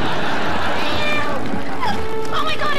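A cat in a television commercial lets out a few short, close meows toward the end, over a dense bed of background sound and voices.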